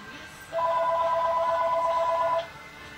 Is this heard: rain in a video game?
no